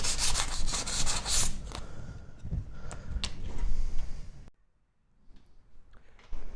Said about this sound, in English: And then some sandpaper to get the burrs out.